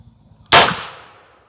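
A single sharp gunshot from a Colt Navy 1851/1861 revolver cracks out after a quiet moment, followed by a short fading echo.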